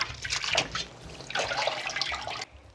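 Water splashes and trickles while salted seaweed stems are rinsed by hand in a basin. Two bursts of sloshing are close and fairly loud, with a short quieter gap between them and an abrupt stop at the end.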